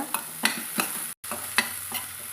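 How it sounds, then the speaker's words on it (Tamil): Ridge gourd curry with a pinch of turmeric being stirred in a pan: a few spaced scraping strokes over a soft steady sizzle, close and fairly loud, with a brief silent gap midway and no voices. "எல்லாத்தையும் நல்லா கலந்து விட்டுங்க"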